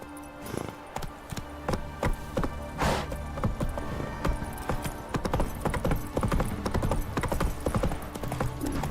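Roach, Geralt's horse in The Witcher 3, trots along with steady, close clip-clop hoofbeats, accompanied by a brief snort or whinny.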